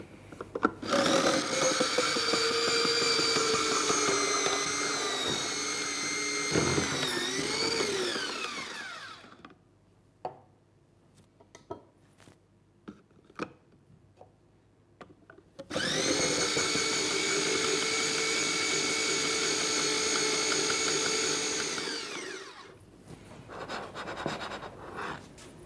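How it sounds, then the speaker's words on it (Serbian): An electric food chopper blitzes chocolate in two long, loud whirring bursts, each with a strained motor pitch, separated by a quiet gap of small clicks and handling noises. "Čokoladu ću usitniti u secku."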